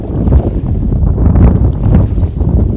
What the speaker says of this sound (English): It's just windy and really cold all of a sudden